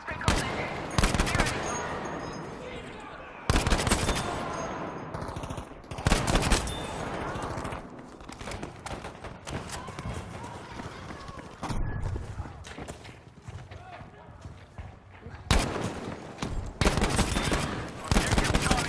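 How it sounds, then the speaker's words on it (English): Battlefield V combat with heavy automatic gunfire and sharp bursts of shots, loud and dense, punctuated by booming artillery-like blasts at intervals, with some voices mixed in. "We need an artillery barrage at this location."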